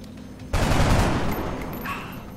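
Gunfire in the video game XCOM: a sudden loud burst erupts after half a second of quiet and rolls on as a dense, sustained volley that slowly tapers, with a brighter electronic tone near the end.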